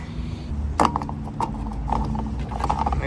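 A car's fuel cap is screwed shut after refuelling with 42 litres at a filling station: a sharp close click, then a run of lighter ratcheting clicks up close, over a steady low background hum. No one speaks.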